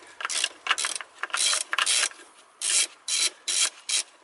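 A hand tool with a socket turns bolts on a Toyota Corolla VVT-i engine part, giving close, repeated rasping ratchet strokes in short, regular bursts with no talking.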